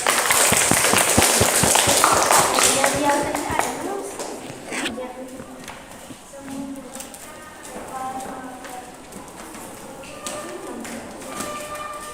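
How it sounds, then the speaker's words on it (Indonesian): A classroom group of students claps for a presenting group, a burst of dense, close hand claps that fades after a few seconds into scattered taps and quiet room murmur. "tepuk tangan untuk kelompok"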